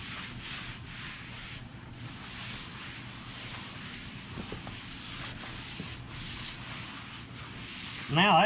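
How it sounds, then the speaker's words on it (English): Rough scrubbing of an oily surface coated in Super Clean degreaser, an uneven scratchy brushing that carries on throughout with some wind-like noise behind it and a louder scrape at the very end. "so I'm going to scrub it"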